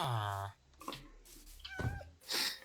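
A Minecraft cat gives a short pixelated meow at the start, followed by scattered game sounds while a person talks over them.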